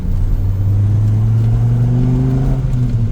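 Loud Dodge Viper engine revving hard under open throttle in second gear, a deep, steady roar with its pitch climbing smoothly as it accelerates, close and with no talk over it.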